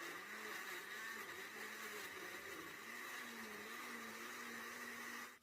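A blender purees charred vegetables with water and chicken bouillon powder, its motor whirring steadily and loudly for several seconds with a slight wavering pitch before cutting off at the end.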